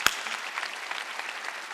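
A church congregation applauding at a Sunday worship service, dense steady clapping from many hands, fairly loud and sustained without voices.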